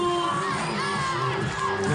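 A home crowd at a women's beach volleyball world championship match in Rotterdam erupts in a brief, loud burst of cheering and high-pitched shouts, filling the arena continuously.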